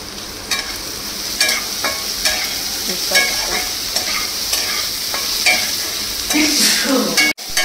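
Onion and garlic frying in a pan for a chickpea curry, stirred with a spoon that scrapes and taps steadily against the pan under a continuous close sizzle, with no talking.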